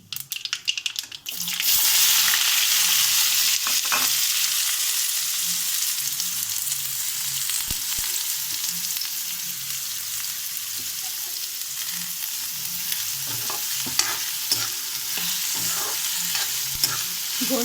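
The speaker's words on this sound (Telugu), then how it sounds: "గోల్డ్ కలర్ వచ్చే వరకు కొంచెం ఫ్రై చేసుకుందామండి." Onions frying in hot oil with mustard seeds and cumin, a steady loud sizzle with occasional stirring scrapes and light pops running throughout, no talking.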